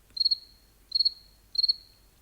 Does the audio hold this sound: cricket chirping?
yes